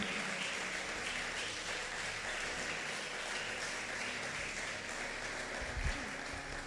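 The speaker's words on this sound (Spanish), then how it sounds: "Dele fuerte ese aplauso al Señor." A church congregation gives sustained, loud applause during a sermon, a dense continuous roar of many hands clapping that holds steady from start to finish.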